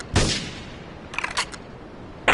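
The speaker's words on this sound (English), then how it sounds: "Investigate reported gunfire." Gunfire in the video game GTA III: one sharp shot, then a quick ragged cluster of shots a second later, and another crack right at the end, all against quiet background.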